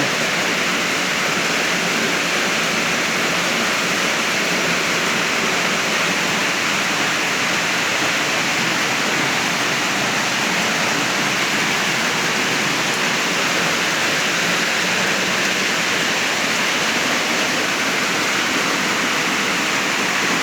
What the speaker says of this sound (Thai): ฝนตกแล้ว ไปไหนไม่ได้แล้วฝนตก